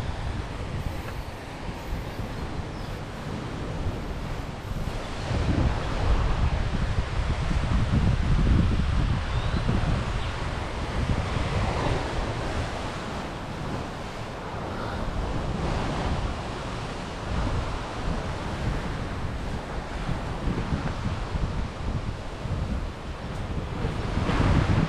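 Ocean waves roll in at high tide along the Coron shore, a loud, continuous wash of surf with swelling crests, heavy wind rumble buffeting the microphone throughout.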